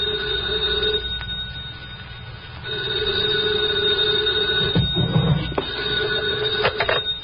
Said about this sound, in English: 2:00 in the morning, the phone rang.